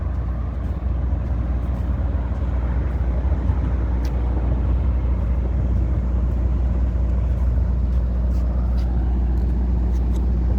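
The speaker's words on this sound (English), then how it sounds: "Couple of nice bus rigs right here." Buses rolling along a Las Vegas street on a Sunday morning, a continuous broad roar of heavy engines and road noise passing at moderate distance, with faint voices in the background.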